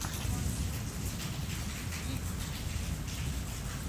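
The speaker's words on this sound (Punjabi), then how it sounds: "ਮੀਂਹ ਹੁਣ ਪੈ ਰਿਹਾ ਜ਼ੋਰਾਂ 'ਚ" Heavy rain pours down steadily at a yard with bird and dog cages, a dense continuous hiss of drops beating on surfaces, loud and unbroken throughout.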